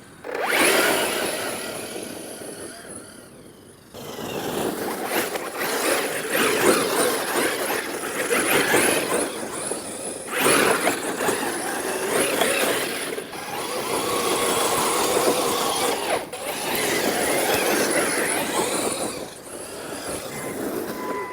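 An RC car launches at full throttle, its electric motor and tyres giving a loud, sustained whine and rush with a few brief dips in level.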